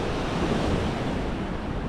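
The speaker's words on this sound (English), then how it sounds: "It's the noise of the waves. It's just lovely." Waves break steadily along the Holderness coast in a dense, constant wash of surf, with wind gusting across the microphone and no voices.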